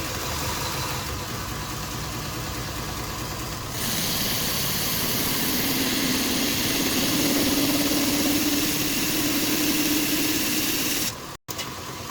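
A belt grinder with a small wheel attachment sanding wood: a steady motor hum that shifts to a louder, rougher grinding drone as the wood meets the belt, continuous and close, with no talk.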